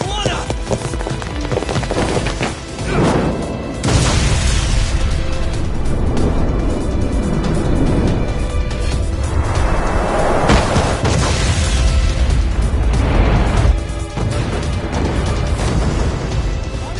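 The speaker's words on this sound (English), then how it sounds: "The ship just exploded!" A ship explodes in the video game Lost Judgment with a loud, broad boom and sustained roaring rumble, followed by further bursts of crashing noise amid game voices.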